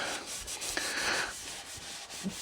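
A Scotch-Brite pad scrubs rust and scratches off the chrome of a hot rod, a steady close abrasive rubbing that runs continuously through the moment with slight variations in pressure.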